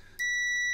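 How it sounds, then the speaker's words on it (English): A multimeter continuity test beep starts abruptly and holds as one steady, high tone, loud and near. "2 metal tips. We get a beep."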